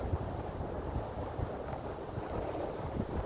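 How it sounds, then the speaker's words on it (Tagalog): Strong wind roars and buffets the microphone continuously, with gusty rumbling and a wash of water noise underneath. "Lakas ng hangin guys."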